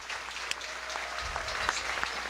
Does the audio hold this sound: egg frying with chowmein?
no